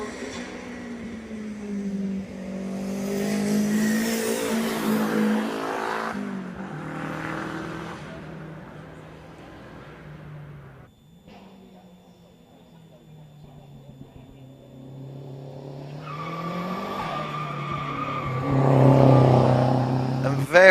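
A tall-bodied car corners hard at speed on a circuit, its engine droning and rising through the bends, with a commentator talking over the sound throughout.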